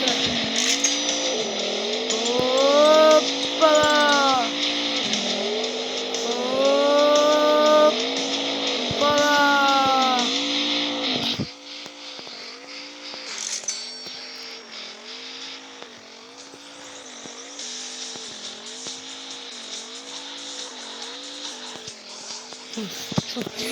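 Race car engine in a racing video game roaring at full throttle, with repeated rising-and-falling rev sweeps as gears shift, loud and continuous, then dropping to a quieter steady drone with periodic revving cycles.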